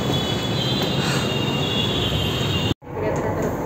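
A metro train running through a station in India, a steady loud rumble of wheels and carriage noise that cuts off briefly near the end before resuming.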